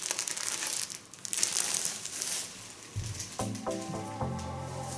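A parcel holding handkerchiefs and a towel is torn open, its plastic wrapping crinkling and rustling loudly up close, with a brief pause before softer crackling handling resumes.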